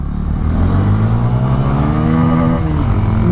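A Bajaj N160 motorcycle engine revs and accelerates, loud and close, its rumbling tone climbing steadily in pitch across the clip before easing back near the end, heard alone without talk.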